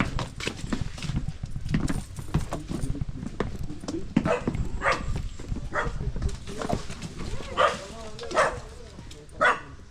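A dog barks in a busy outdoor setting, a few sharp barks surfacing late amid clattering, hoof-like knocking and scattered noise, moderately near, with people talking faintly in the background.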